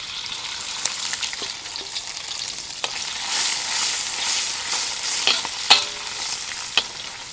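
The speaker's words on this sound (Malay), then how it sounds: "Bagi kuali betul-betul panas, kita nak goreng ikan bilis dulu." Anchovies sizzle and crackle in hot oil in a very hot wok, with scraping stirs and sharp pops scattered throughout, close and steady.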